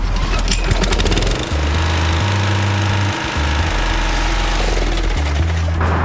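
A Briggs & Stratton lawnmower engine fitted with a quick-engaging Smooth Start recoil fires up and runs: a loud, steady, rough mechanical roar with pulsing low chugging that holds for several seconds, with no voices.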